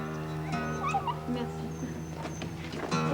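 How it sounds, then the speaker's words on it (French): Dogs whimper and yelp at a winery during grape fermentation, with a steady, high, whining tone running through the whole stretch and occasional sharper cries, fairly faint and close. "Calmez-vous, les chiens."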